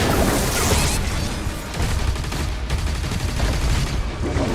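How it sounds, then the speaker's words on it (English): A plasma gun in DOOM: The Dark Ages fires in a loud, continuous rapid barrage of heavy crackling bursts with a few short gaps, with no talk over it. "Plasma gun test in progress."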